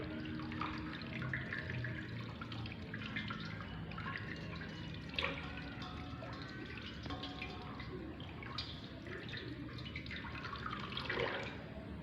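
Tap water runs steadily into a sink while hands are rinsed under the stream, a continuous close splashing with small drips and no speech.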